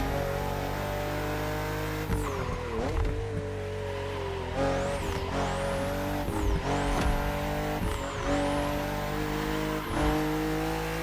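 A BMW M4 CSL in The Crew Motorfest racing game roars at high revs, with repeated gear shifts dropping and climbing the engine note, loud and steady throughout, with brief tire squeal.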